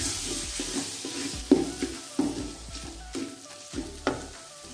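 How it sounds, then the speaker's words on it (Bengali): Tomatoes hit a pan of frying eggs and sizzle. A spatula stirs and scrapes in a series of sharp, rhythmic knocks over the hiss. "এখন আমি এর মধ্যে অ্যাড করব টমেটো"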